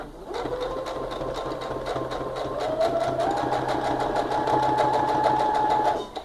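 A sewing machine runs a steady, fast stitching rhythm close by for about six seconds while sewing a backstitch on a simple fabric toiletry bag, its motor pitch rising slightly midway, then stopping abruptly.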